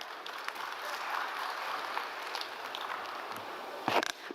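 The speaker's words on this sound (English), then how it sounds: "A little huger round of applause." An audience at a design fellowship meet claps in a steady, moderately loud round of applause that fills the room, ending with a few louder close claps.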